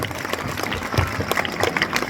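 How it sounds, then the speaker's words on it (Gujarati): An audience applauds vigorously at an Independence Day celebration in the Manfara village high school. The clapping is dense and loud throughout the short burst. "એમના માટે આપણે એકવાર ફરીથી જોરદાર તાળીઓ પાડી દઈએ."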